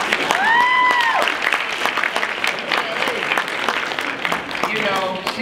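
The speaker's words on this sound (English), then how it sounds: "I want to give a round of applause to Dr. Kasi." Audience at a keynote presentation applauding and cheering, bursts of clapping mixed with whistles and voices, fairly loud and close, continuing throughout.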